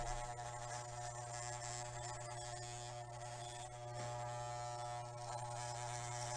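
An electric hair clipper trims a boy's hair at home, giving a steady, continuous motor buzz with a strong low hum that holds at an even level throughout, close up and without any talking.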